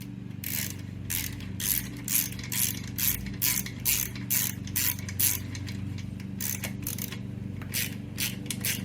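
Ratchet socket wrench clicking in rapid repeated bursts while tightening a bolt on the exhaust of a 1997 Vespa P200E scooter, close and clear over a steady low hum, with no talking.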